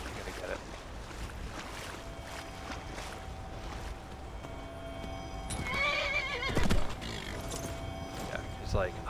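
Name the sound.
horse neighing and hooves in the video game Skyrim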